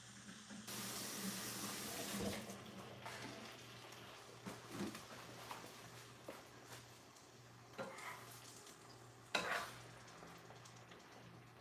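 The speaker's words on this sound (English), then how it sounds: "Let me wash my hands." Hands are washed under a running tap at a kitchen sink, a soft steady water flow with intermittent splashes and clatter, fairly quiet and close, with no talking.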